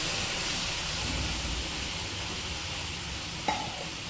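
Milk being stirred into a bread sandesh mixture in a hot pan, a steady close sizzling hiss throughout with a single brief knock of the spoon near the end.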